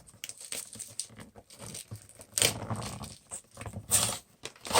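Plastic wrapper on a Kingdom Hearts 3 Funko mystery mini blind pack being torn open, with crinkling and ripping in several short bursts close to the microphone.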